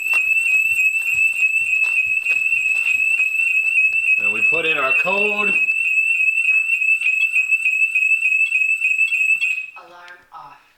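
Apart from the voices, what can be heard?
home security alarm sounding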